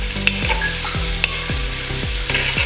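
Julienned ginger and chopped garlic fry in hot oil in a pan, a steady close sizzle broken every half second by the scrape and clack of a stirring utensil, with no voices.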